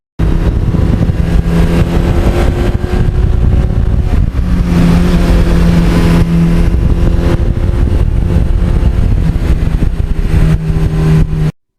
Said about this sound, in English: I love the sound of that 86 exhaust